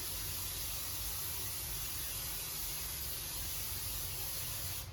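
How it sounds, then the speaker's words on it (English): A steady, close hiss of a cooking oil spray can runs without pause for about five seconds, broad and airy, with no talking. "we're going to spray it with cooking oil"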